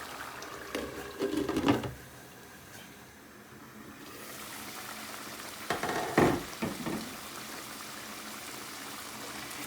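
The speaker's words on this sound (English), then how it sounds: "Eggs are cooking away." Eggs fry in a pan for a Bangladeshi egg curry, with a continuous soft sizzle and two louder bursts of spitting and stirring.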